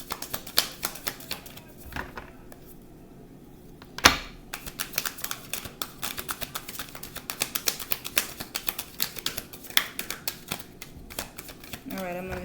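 Cards riffle and flutter in rapid crisp bursts with scattered clicks and snaps, close and fairly quiet, with no talking.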